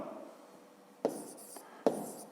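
A pen scratches faintly on paper while column multiplication is written out by hand, with two sharper taps or strokes standing out over a quiet room.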